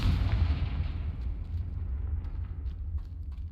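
In Hogwarts Legacy, a Confringo blasting spell sets off a deep, rumbling explosion that starts loud and booming, then decays into a long low roar with faint crackling debris.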